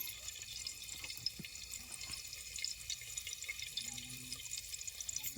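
Fresh coriander leaves are rinsed in water, giving faint, soft splashing and trickling throughout, quiet and steady with no talking.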